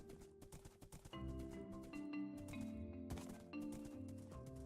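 Quiet rhythmic horse hoofbeats in a video game thud in a steady gallop beneath a soft sustained musical tone, fairly faint and even throughout.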